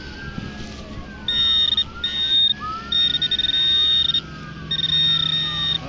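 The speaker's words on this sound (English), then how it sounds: "Well, that's a lot of sirens going off." Emergency vehicle sirens wail nearby at a local park, with rising and falling sweeps layered over a piercing steady high tone that pulses on and off repeatedly.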